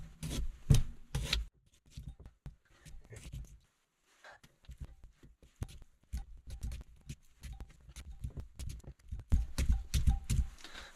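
Repeated stabbing of a potato with a utensil before campfire cooking, sharp irregular jabbing and scraping thuds in bursts, close and fairly loud, with a short pause partway through.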